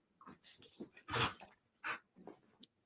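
Pet dogs whimper and whine indoors, a string of short nasal cries and breathy yips with one louder squeal near the middle, close to the microphone and with no talk over them.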